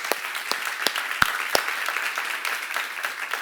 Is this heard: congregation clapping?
yes